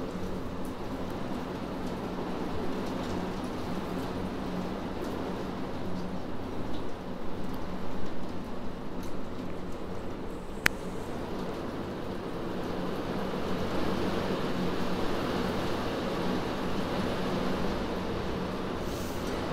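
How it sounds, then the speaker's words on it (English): Torrential rain pouring down outdoors, a steady loud broadband roar of downpour that holds throughout with no talking. "if I could turn the camera around and show you, you would not believe how torrential the rain is"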